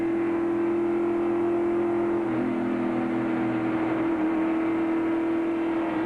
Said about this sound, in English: the green has just been waved, and you see the pack accelerating.